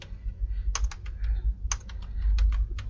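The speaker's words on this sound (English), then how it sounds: "Just typing." Fingers type on a computer keyboard while a document is edited, a close, crisp run of irregular key clicks in uneven bursts over a low background rumble.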